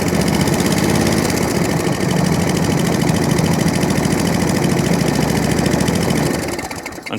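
A ride-on lawn mower engine idles steadily and loudly with a constant rumbling drone, then starts to wind down as it is switched off at the very end.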